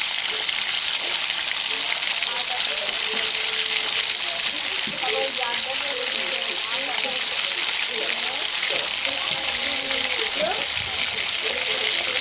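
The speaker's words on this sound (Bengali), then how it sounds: "দিয়ে আবারও ভালোভাবে নেড়ে চেড়ে নিচ্ছি" Flat beans, eggplant and potato fry in a pan and are stirred, making a continuous loud sizzle broken by scraping turns of the spoon, with a faint voice underneath.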